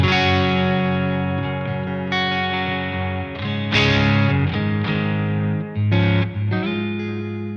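Electric guitar plays straight into the amp, with Strymon, Capistan and Golden Reverberator units in the effects loop, giving sustained, ringing chords and notes with a thick, slightly driven, reverberant tone and no talking.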